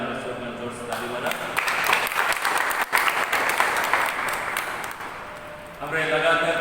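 An audience applauds steadily for Soman George at a youth day welcome programme, a dense wash of many hands clapping that runs throughout and swells again near the end.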